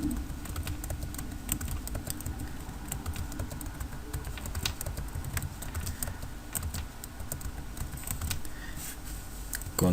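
Continuous typing on a computer keyboard, close and steady with rapid, irregular key clicks and no talk.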